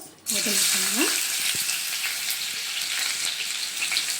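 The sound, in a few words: ginger and garlic frying in hot oil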